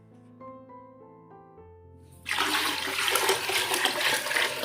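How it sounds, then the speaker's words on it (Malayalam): Water for one cup of biryani rice gushes into a pan in a strong, continuous rushing pour that starts suddenly after a few soft knocks and tones. "അതിലേക്ക് 2 കപ്പ് വെള്ളം ഒഴിച്ചു കൊടുക്കുന്നുണ്ട്."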